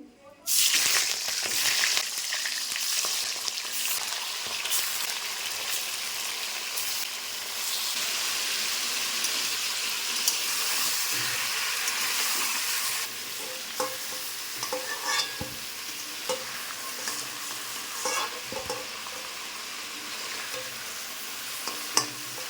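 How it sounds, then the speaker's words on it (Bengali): Chicken pieces go into hot oil left from frying potatoes. A loud burst of sizzling settles into a long, steady crackle, easing slightly later with a few stirring clinks. "এই আলু ভাজার তেলে দিয়ে দেবো চিকেন।"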